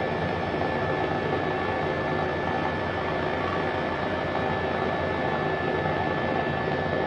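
Exterior engine and rotor sound of an H135 helicopter in Microsoft Flight Simulator 2020, a loud, steady whining roar with constant turbine hum and no breaks or voices.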